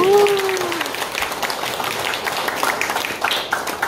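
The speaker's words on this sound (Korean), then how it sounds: "박수 한번 쳐주세요." Crowd clapping at the opening ceremony of a home medical and welfare care center. A brief high whistle-like tone sounds at the start, then a steady, moderately loud round of applause continues with voices mixed in.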